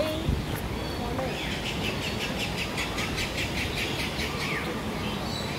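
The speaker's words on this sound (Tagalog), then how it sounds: "Ayan ang mga ibon dito." Birds inside a screened aviary chirp in quick repeated bursts over a constant outdoor hiss, the calls fairly close and moderately loud.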